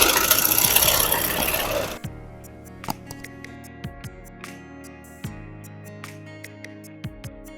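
A sewing machine stitching a shoulder seam on a kameez gives sparse mechanical ticks and short whirring runs, close and moderately loud, after a loud burst of broadband noise at the start.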